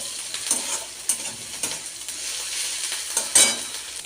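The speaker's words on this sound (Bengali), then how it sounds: "আদা, রসুন আর লাল পাকা লঙ্কা বাটা। ভালো করে তাকে ভাজতে হবে।" A paste of ginger, garlic and ripe red chilli frying in a pan for a raw katla fish kalia: bright, crackling sizzle broken by repeated stirring scrapes and a few sharp spatula taps, close and unaccompanied by speech.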